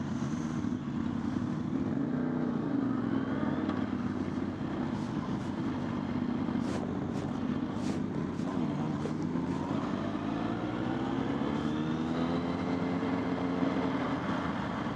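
A Suzuki Bandit motorcycle's engine runs steadily as a constant low rumble with gently rising and falling pitch. It sounds moderately close, with no voices over it.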